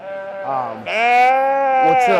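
A sheep at a livestock show bleats loudly and close by, with a brief wavering call followed by a long, strained bleat and a short trailing cry, over a quiet background.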